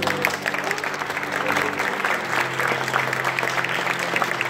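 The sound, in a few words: applause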